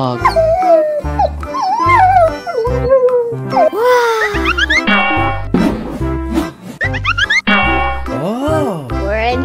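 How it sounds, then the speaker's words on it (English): A dog howls, whimpers and yips in a long expressive run of rising and falling wails, loud and close, broken by short pauses and a few sharper barks. "Dog."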